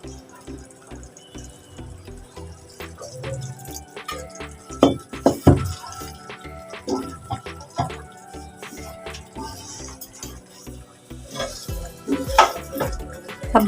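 Water is poured into spiced kachori filling cooking in a pan, with splashing and drips, clinks of a utensil against the pan and stirring, close and fairly loud.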